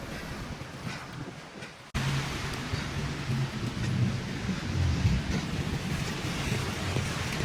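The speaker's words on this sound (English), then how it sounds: "It's absolutely pissing down." Heavy rain pouring down outdoors, a dense steady hiss and patter with a low rumbling undertone, starting abruptly after a brief quieter stretch and continuing loudly throughout.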